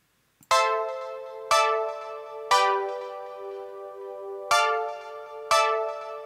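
Suspended sus2 and sus4 chords played by the Captain Chords plugin: five separate sustained chord hits, each struck sharply and left to ring and fade before the next, clean and alone.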